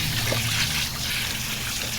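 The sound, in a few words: rinsing a tie-dye shirt under cool running water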